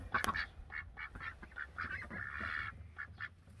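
A nesting duck sitting on eggs quacks repeatedly up close, a rapid series of loud nasal calls with one longer drawn-out quack midway, over faint background rustling.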